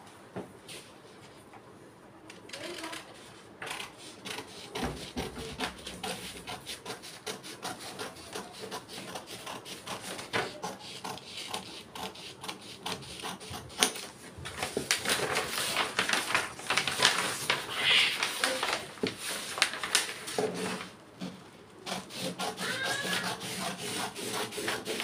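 Scissors snip through jacket fabric during tailoring cutting, a close, continuous run of crisp crunching and rubbing cuts that swells louder midway, with no speech.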